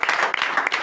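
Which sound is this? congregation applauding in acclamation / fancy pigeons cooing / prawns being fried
congregation applauding in acclamation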